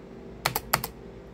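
Keys struck on the keyboard of a 1989 Macintosh SE/30, two quick pairs of crisp clacks close by, about four keystrokes in under half a second, with quiet background otherwise.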